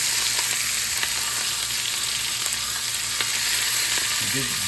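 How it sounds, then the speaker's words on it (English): Steady, dense sizzling of onions frying in a hot pan, continuous crackle throughout with no talking. "I'm going to throw my onions in here"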